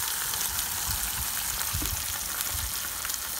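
Squid frying in a hot pan with olive oil gives a steady, close sizzle and crackle, with a few soft stirring bumps and no talk.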